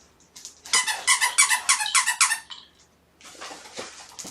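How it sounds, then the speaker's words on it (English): Dog squeaker toys, batted around as kitten playthings, squeak in a quick rhythmic run of about a dozen loud bursts. A pause follows, then softer rustling and scuffling. "These are actually dog squeaker toys."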